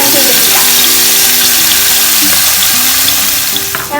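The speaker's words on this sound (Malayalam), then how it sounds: "നമ്മൾ കാഷ്യൂനട്ടിന് ഉപയോഗിച്ച അതേ വെജിറ്റബിൾ ഓയിലിൽ തന്നെ ചെമ്മീനും ഫ്രൈ ചെയ്തെടുക്കാം." Shrimp frying in vegetable oil in a pan, a steady, dense sizzle and hiss that carries on throughout, with faint tonal sounds in the background.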